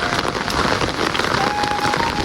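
Light rain patters steadily on a surface, a soft continuous hiss of drops with no voices.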